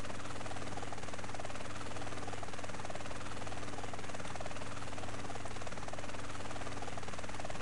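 A helicopter in Grand Theft Auto: San Andreas drones steadily throughout, a constant buzzing rotor roar with no pauses and no talk.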